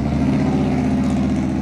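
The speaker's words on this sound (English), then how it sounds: "That truck is loud for no reason." Loud truck engine on the road, a steady close rumble with a faint rising rev, heard alone and continuous for the short stretch.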